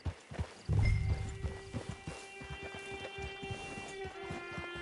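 Horse hooves clop at a walking pace near a camp, a steady series of hollow knocks close by, with a brief louder thump early on and a faint tonal hum underneath.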